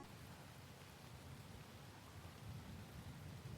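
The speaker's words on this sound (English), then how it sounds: "I used rain and sirens as an undertone, like an ambience type of thing" Steady rain ambience with a soft, constant hiss and low rumble throughout, evenly loud with no speech.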